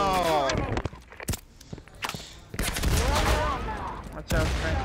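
Rapid bursts of gunfire in the first-person shooter Firewall Zero Hour, sharp repeated cracks in clusters with quieter gaps between, while players talk over the shooting.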